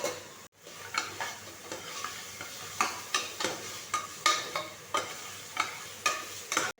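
Carrots sizzle in oil in a pan for mushroom biryani, with a soft continuous frying hiss broken by regular scraping strokes of a spoon stirring, each stir a short clatter repeating roughly every half second.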